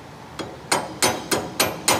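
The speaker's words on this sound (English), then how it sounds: "flip your belt over and bend over the nail" A hammer bends a nail over against a leather belt while an alligator clip is being made. Six sharp, close metallic blows land at a quickening, fairly regular pace, with no talking.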